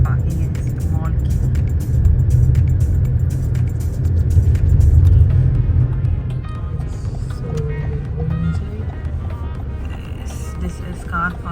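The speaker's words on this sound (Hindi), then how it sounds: "सोचा कि पार्किंग में पहले गाड़ी लगा दी जाए" A car rolling into the parking garage of Warehouse Mall in Kuwait, a steady low engine rumble from inside the vehicle that eases off toward the end, under a person talking.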